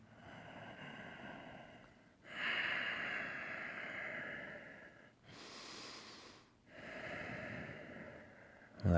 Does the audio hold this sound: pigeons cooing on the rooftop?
no